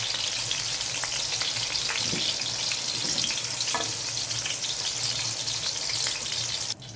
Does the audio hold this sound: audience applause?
no